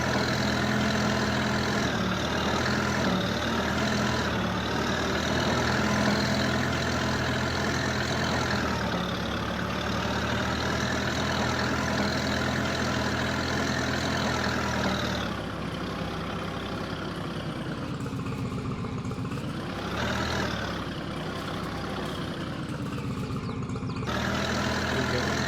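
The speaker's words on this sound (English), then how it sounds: "Love the way this tractor sounds." A Moline tractor in Farming Simulator 22 idles with a continuous heavy, low engine rumble that holds steady and alone for the whole stretch.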